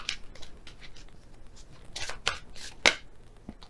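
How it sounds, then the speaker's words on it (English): Tarot cards are shuffled by hand in a series of quiet, crisp riffles and slaps, irregular and close, with a sharper snap near the end. "So I'll shuffle again and see which one comes out."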